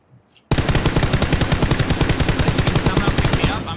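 Loud automatic gunfire in PlayerUnknown's Battlegrounds, a sustained rapid burst of evenly spaced shots lasting about three seconds after a brief quiet start.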